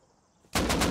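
Gunfire in the game Rust, a sudden burst of loud, rapid automatic shots close by after a near-silent moment, firing in quick repeated cracks until the end.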